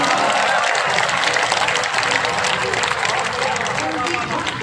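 Dense, steady applause from an audience at a Hindi poetry recital, filling the whole stretch as a continuous roar of many hands clapping at close range without letup.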